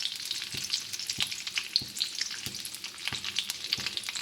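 Curry leaves and onions sizzling in hot oil in a pan, a steady crackling hiss with regular soft clinks of a stirring spoon against the vessel, close and alone.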